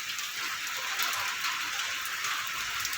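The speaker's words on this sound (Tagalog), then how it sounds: "Grabe ang lakas na ulan" Heavy rain falling as a dense, steady hiss that stays even and continuous from start to finish, with no voices.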